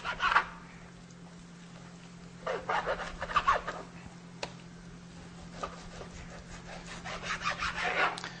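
A kitchen knife saws through trimmed beef, cutting it into pieces about the size of a chicken breast. Several scraping strokes come close up, separated by pauses, over a steady low hum.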